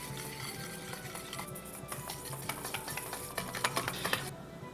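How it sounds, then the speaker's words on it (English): A whisk scrapes and clatters steadily around a bowl as coconut oil is worked into a mixture for gravy, close and continuous with light metallic ticks and no talking. "And then we have to whisk vigorously."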